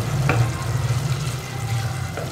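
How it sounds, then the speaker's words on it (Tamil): Tamarind water going into a hot pan for Kerala-style ulli (shallot) theeyal, frying with a steady low sizzle that holds throughout at moderate loudness. "புளி எடுத்தோம், அதை கரைச்சி இதில் ஊற்றிடலாம்"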